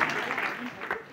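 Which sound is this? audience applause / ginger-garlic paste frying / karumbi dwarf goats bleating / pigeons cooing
audience applause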